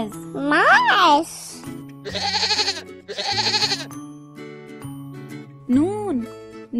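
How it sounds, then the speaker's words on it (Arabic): A goat bleats several times, each call a wavering, quavering cry up close, separated by short pauses, with light chiming tones in between. "ميم، ماعز. ماعز."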